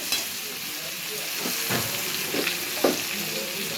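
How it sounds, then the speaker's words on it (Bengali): Crushed garlic hitting hot oil in a pan, a close, even sizzle with several scraping stirs and small bursts of spatter. "রসুন থেঁতোটা দিয়ে দেব তেলের মধ্যে।"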